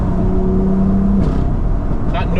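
Tuned BMW M2 engine pulling through the gears, a steady, loud car drone with a falling engine note partway through, heard from inside the cabin with low voices under it.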